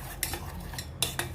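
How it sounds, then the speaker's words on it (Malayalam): A metal spoon stirs banana curd curry in a pot, making two pairs of quick scraping clinks against the pan over a low steady background hum. "ഇത് നന്നായിട്ടൊന്ന് ഇളക്കി കൊടുക്കാം."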